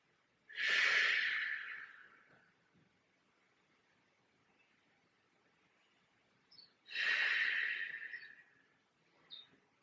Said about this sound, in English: Breathing deep into that belly, really trying to expand the belly full of air.